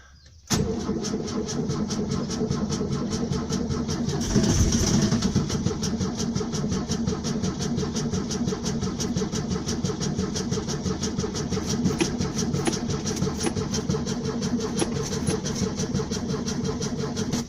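A 1967 VW squareback engine, parked for four years, cranks steadily on its starter without catching, a continuous loud rhythmic churning that runs for many seconds.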